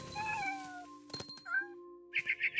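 A cat in the video game What Remains of Edith Finch meows several times, clear and close, ending in a run of quick repeated yowls, with no talk over it.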